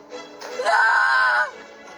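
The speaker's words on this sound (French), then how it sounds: "Il crie encore, là." A single person's scream rises and holds for about a second, coming from a video being played, fairly loud and shrill with a faint background before and after.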